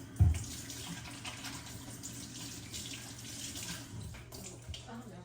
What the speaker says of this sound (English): wash my hands again real quick